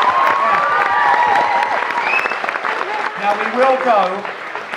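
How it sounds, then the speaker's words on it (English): A room applauds a team with a steady wash of clapping and some cheering, loud and close, while voices talk over it. "Round of applause for your team."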